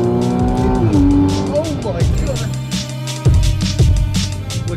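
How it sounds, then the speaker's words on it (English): Fast cars race with screeching tire squeals and revving engines in a racing game, tones sliding up and down as cars skid and pass, loud and close, with voices talking over it. "Oh, that is a fast car."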